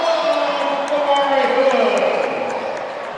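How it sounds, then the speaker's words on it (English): A college men's basketball crowd between Saint Francis and Taylor roars in a loud, sustained wave after a slam dunk, with sneaker squeaks and faint court thuds inside the noise. "The crowd erupts."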